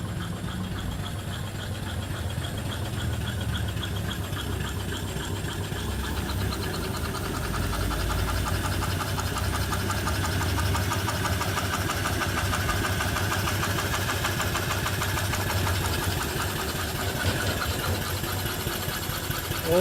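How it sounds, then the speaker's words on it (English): Antique steam engine with a big flywheel, fed by a boiler and exhausting up a stack, runs steadily with a continuous rhythmic mechanical chug and whir, close and even throughout. "The big old flywheel runs real true."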